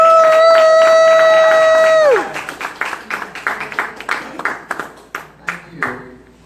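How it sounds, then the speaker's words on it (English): Audience at a reparations convention breaks into a round of applause as a sustained tone fades out, with loud, close clapping in uneven bursts that gradually thins. "give a round of applause"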